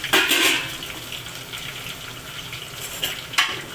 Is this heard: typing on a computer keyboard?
no